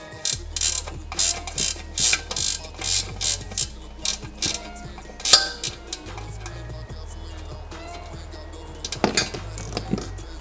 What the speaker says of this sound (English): So now I'm about to take out this drain valve.